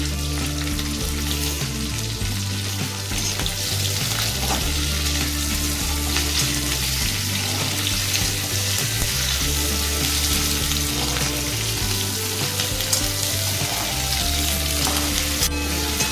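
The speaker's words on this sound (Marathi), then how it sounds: "कांदा पण चांगला फ्राय करून घ्यायचा आहे" Chopped onion and bell pepper fry in a pan for a dhaba-style mushroom masala, a loud, unbroken sizzle with occasional stirring scrapes, close and steady throughout.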